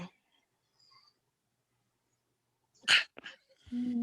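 A single sharp sneeze breaks a near-silent stretch, followed by a brief snuffle and a short voiced sound.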